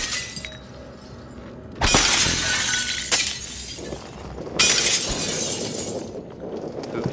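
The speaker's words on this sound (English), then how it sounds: "We just break the glass and find the maintenance tunnels instead" Glass fish tank panes smashing in the video game Prey: two loud, bright shattering crashes a few seconds apart, each followed by trailing tinkling debris over a low background hum.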